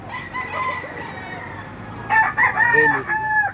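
A Boston Roundhead gamefowl hen calls in a few short, harmonic bursts, the loudest close together near the end, over a low steady background hum.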